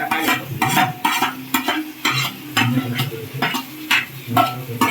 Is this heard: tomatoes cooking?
yes